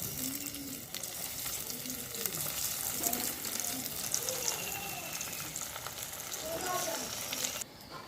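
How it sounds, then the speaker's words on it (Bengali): Paneer fingers frying in hot oil give a steady, close sizzle with faint bubbling and occasional clinks, continuing for several seconds with a soft voice in the background. "বাকি পনির ফিঙ্গারগুলোও আমি একইভাবে ভেজে তুলে নেব"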